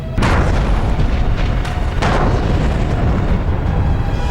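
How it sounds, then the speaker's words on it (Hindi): Two loud explosive blasts from a bomb at a shrine in Bangkok, a couple of seconds apart, each bursting out over a constant heavy roar of rumbling noise. "एक जोरदार धमाके के साथ बीच सड़क पर आग का गोला उठा"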